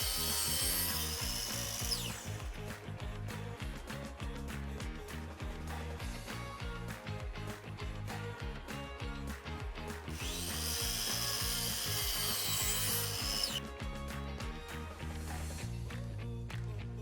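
A miter saw fitted with a jig makes 22.5 and 45 degree cuts in wood moldings: two loud, sustained, whining cuts over a steady mechanical drone, with rattling and clattering between them.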